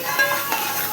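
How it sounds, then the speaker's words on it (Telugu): Ginger paste and turmeric frying in a pan, a close, bright sizzle with brief scraping stirs of a spoon against the metal, steady for a moment and free of talk. "తర్వాత అల్లం పేస్ట్, పసుపు వేసుకోవాలి. పచ్చివాసన పోయేదాకా వేయించుకోవాలి."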